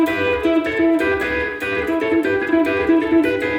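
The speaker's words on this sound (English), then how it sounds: "the lick that I played is a little double stop thing" Country guitar double-stop lick: paired notes bent and picked in a quick, bouncy repeating phrase, bright and twangy, played alone and close with steady loudness.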